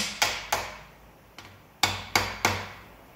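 Hammer blows seating parts during a 5.0 engine swap: six sharp metallic strikes spaced irregularly, close and loud, each ringing briefly before fading, with no talking.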